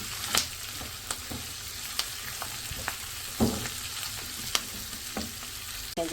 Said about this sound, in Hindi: चिकन को भी मैं सब्जियों के साथ 2 से 3 मिनट जो है वो भून लूँगी